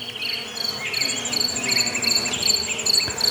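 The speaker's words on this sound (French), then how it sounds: "Sauterelles, grillons et criquets stridulent en écho au vrombissement et bourdonnement de quelques bandes volantes." Grasshoppers and crickets stridulate in a dense, steady chorus across a flowery meadow, with flying insects buzzing underneath; the chirring is continuous and fairly close, with no voices.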